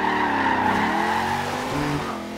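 V8-swapped Volvo S60 Polestar drifting in Forza Horizon 2, the engine roaring loud and steady with tire squeal, its pitch dipping and wavering through the slide before easing off.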